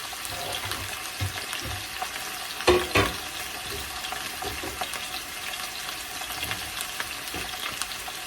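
Chicken pieces browning in hot frying oil for adobo, giving a dense, constant crackling sizzle with a couple of sharper pops and clatters midway, close and steady with no voices.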